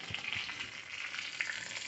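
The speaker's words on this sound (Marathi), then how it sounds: "ही फोडणी आपल्याला आता कोशिंबीरवर टाकायची आहे" Hot tempering with a pinch of asafoetida poured over a beet and carrot salad, giving a brief, faint crackling sizzle close by, with no voices.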